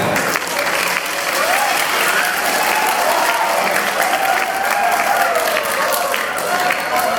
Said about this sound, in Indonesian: Tepuk tangan untuk SMK